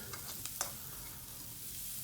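Onion and curry powder sauté in a pan with a soft, brief sizzle. A few light stirring scrapes come near the start.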